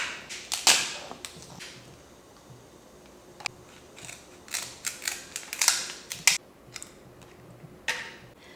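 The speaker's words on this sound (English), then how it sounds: "we're just going to place the shells into a pot" Cooked lobster shells dropped into a pot, a string of brittle clicks and clatters with uneven gaps between them, close and fairly quiet.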